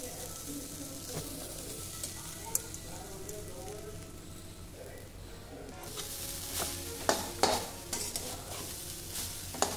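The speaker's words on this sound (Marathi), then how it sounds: "खोबरं आपल्याला 1-5 मिनिटं थोडंसं चांगलं भाजून घ्यायचे" Grated coconut being stirred and dry-roasted in a pan for modak stuffing, with steady scraping and soft sizzle throughout and sharper clattering strokes toward the end.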